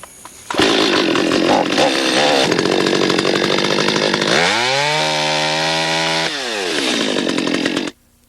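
A chainsaw cuts a branch while pruning a tree, the engine roaring loud and close, dipping in pitch as the chain bites into the wood and revving back up before cutting off abruptly.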